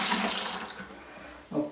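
A sponge is rinsed out in water for wet sanding drywall joint compound, a close splashing and sloshing wash followed by a brief squeeze and gurgle, with no voices.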